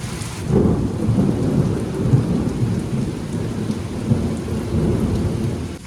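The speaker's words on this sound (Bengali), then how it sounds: "আর বৃষ্টির সাথে সাথে প্রচুর জোরে জোরে বিদ্যুৎ চমকাচ্ছে" Heavy rain pours down steadily while deep thunder rumbles and rolls throughout, with no voices; a lightning storm near Lingaraj Temple.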